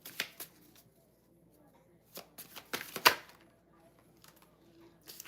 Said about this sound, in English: you saw me shuffle it